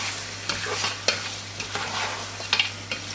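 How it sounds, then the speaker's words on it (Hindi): Mutton frying with onions in a pan over a high flame, giving a soft, steady sizzle broken by scattered scrapes and clinks as a utensil stirs the pieces, close by and fairly quiet. "इसको जो थोड़ा सा यहाँ पर फ्राई करते हैं प्याज के साथ"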